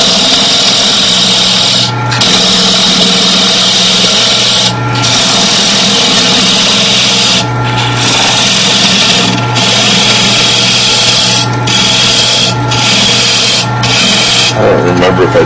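Thin wood being cut on a lathe to blend two surfaces of a wooden hat: a loud, close, continuous rasping scrape over a low motor hum, interrupted by several brief pauses as the tool lifts away.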